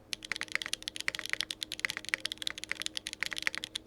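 Continuous fast typing on a QK65 Mk3 mechanical keyboard with a slightly hollow spacebar, dense clacky keystrokes close up in a steady irregular rhythm, with no voices.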